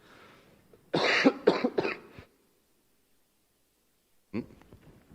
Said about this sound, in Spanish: voy a toser de nuevo